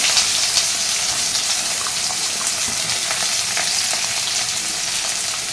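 Finely chopped large onion frying in oil in a pan for bean poriyal gives off a loud, dense, continuous sizzle that stays even and close throughout, with no talking.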